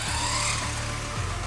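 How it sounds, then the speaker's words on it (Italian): A remote-control stunt car with no brakes slides across a slippery indoor floor, its wheels losing grip. A steady whining motor hum runs throughout, with a short skidding scrape near the end. "come vedete le ruote non mantengono molto bene"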